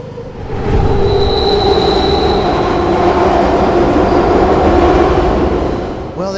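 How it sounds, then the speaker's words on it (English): A train roars past loudly in the video game Beyond Hanwell, with a continuous heavy rumble, rolling wheel clatter and a sustained high-pitched squeal, swelling up close and then easing off as it passes. "Well, there's a train, and that was really loud."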